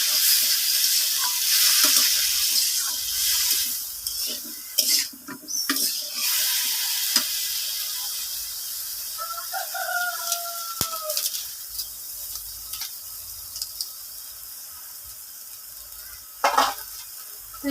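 Shrimp with vegetable stalks sautéed in a pan for a Bengali chingri charchari, with a steady close sizzle and the scrape of stirring, plus a brief birdlike chirp in the middle.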